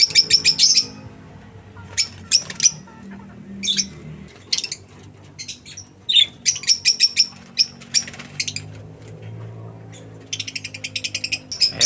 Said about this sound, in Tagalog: So, ito po ulit yung ating mga alagang lovebirds na mga black chick.